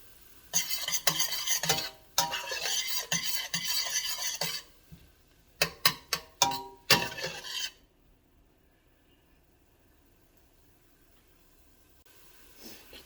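A rubber spatula scrapes and stirs food in a pan in rhythmic bursts, then a few separate strokes, trailing off into quiet sizzling.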